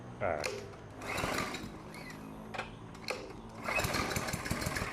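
A small petrol walk-behind lawn mower engine, a RAPTER, runs and revs up in surges, rough and steady, with a voice talking faintly over it.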